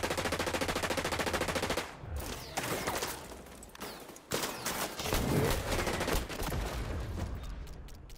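Rapid, sustained automatic fire from a video game weapon on the Meltdown map, dense continuous bursts with brief breaks, loud and close, with no talking.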